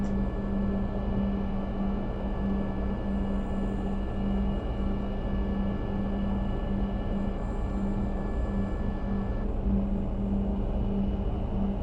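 A Beechcraft King Air 90 in the X-Plane Mobile flight game, its turboprop engines idling on the ground after landing: a constant, even drone and rumble with a steady hum that slightly eases late on, with no voices.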